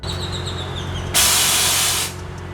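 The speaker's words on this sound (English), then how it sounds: "There's the compressor kicking on." An air suspension compressor on a 2010 Honda Odyssey kicks on with a sudden loud hiss of rushing air that lasts about a second before dropping back to a quieter background hum.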